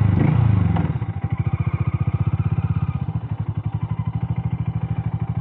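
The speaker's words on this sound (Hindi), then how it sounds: "तो चलिए बाइक का एक बार टॉप रन टेस्ट करते हैं।" A Harley-Davidson X440 motorcycle at full throttle on an open road, its engine note a loud, steady thrumming pulse with a rapid regular firing rhythm, after an opening surge of revs.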